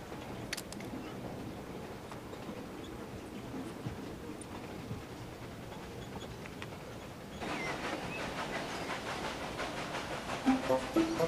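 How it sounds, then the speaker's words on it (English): A passenger train rolls along with a steady rumble and faint hiss, growing louder and brighter near the end as it comes into the station, with a few brief clanks. "It's not long before the train reaches the station."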